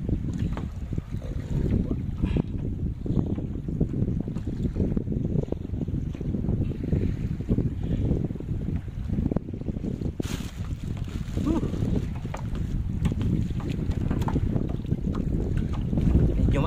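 A kayak rides choppy sea waves off Dubai, with a constant rumble of water and wind buffeting the microphone throughout, close and loud, while voices talk briefly over it.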